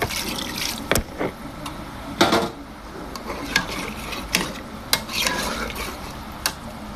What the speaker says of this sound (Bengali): এখন দিয়ে দিব ঝোল, দিয়ে দিব পরিমাণ মতো ঝোল।